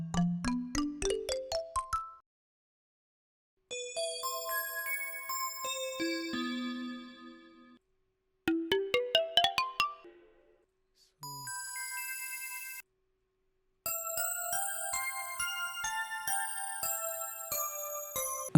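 Bell and mallet instrument presets previewed in Cubase play in several bursts, each a rapid run of bright, ringing pitched notes: chimes, glockenspiel-like tones and sustained bell chords, separated by short silences.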